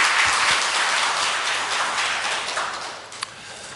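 Applause from a church congregation during a Sunday worship service, a steady wash of many hands clapping that fills the room and slowly thins toward the end, with one sharp louder clap near the close.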